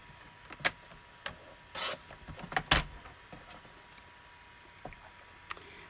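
A paper trimmer slices paper on a crafting table with a couple of short, sharp swishing cuts and scattered clicks and taps in between, fairly quiet overall with no voice.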